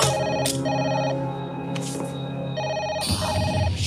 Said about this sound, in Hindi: क्या कोई फोन नहीं उठा रहा?